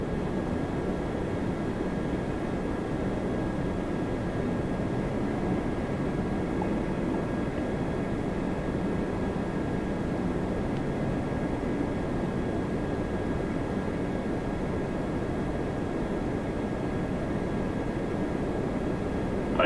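A Boeing 777 airliner at Toronto Pearson airport produces a steady, broad engine roar heard from a distance, unchanging across the whole stretch, with no voices.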